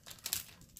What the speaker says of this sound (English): they're in a bag, so there's a little bit of noise